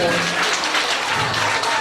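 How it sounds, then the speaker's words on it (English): Applause for second place awardees at a primary school induction ceremony, a dense continuous wash of clapping from a crowd, fairly loud and close throughout, with some voices mixed in. "give a round of applause for second place awardees"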